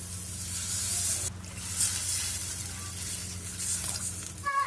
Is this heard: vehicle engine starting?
no